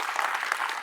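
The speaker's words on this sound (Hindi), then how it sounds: "ताली बजा दो इस बात में" Audience applause from a seated crowd at a motivational talk, dense steady clapping filling the whole moment at even loudness with no voices over it.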